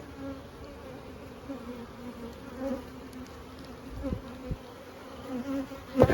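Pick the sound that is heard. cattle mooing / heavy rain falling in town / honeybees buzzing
honeybees buzzing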